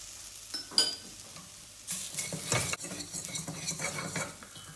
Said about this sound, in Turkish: Salçayla beraber kavuracağız.